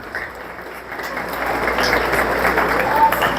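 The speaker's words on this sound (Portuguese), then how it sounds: "Pode aplaudir o Senhor, né?" A church congregation at a worship service breaks into applause, the clapping swelling from faint to a dense, steady wash over a few seconds in a reverberant hall.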